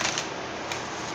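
A tarot card deck shuffled close by, a dense continuous riffle of cards with two brighter flicks, loud and alone with no talking.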